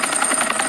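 A large helicopter in the Roblox prison game Redwood Prison, its rotor giving a steady, close, rapidly pulsing whir with a high whine above it, with no talking.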